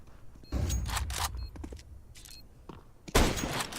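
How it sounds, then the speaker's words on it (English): Flashbang grenade going off in Counter-Strike 2 amid game sounds, with a sudden loud broadband burst near the end following several sharper metallic clicks and thumps. "Deploying flashbang."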